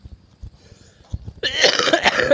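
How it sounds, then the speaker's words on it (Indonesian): A person fertilizing shallots grown in polybags gives a loud, close cough of about a second that follows a quiet stretch of faint handling noise. "Maaf teman-teman, batuk ini."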